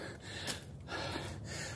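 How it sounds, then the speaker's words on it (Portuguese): Heavy, rapid breathing with sharp gasping breaths close to the microphone from someone hurrying on foot up a steep hill at Morro Boa Vista in Niterói. "Tô bem ofegante, que eu tô subindo bem rápido"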